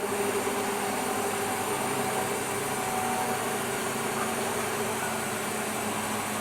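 A used 16-inch Leten LCM-400A vertical bandsaw's blade grinder runs at a lowered speed, giving a steady, continuous mechanical hum with a faint tonal whine. It stays close and even throughout, with no talking.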